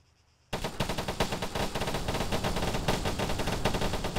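Rapid gunfire from a weapon in Arma 3 bursts in loud after a brief silence and continues as a dense, unbroken stream of shots to the end.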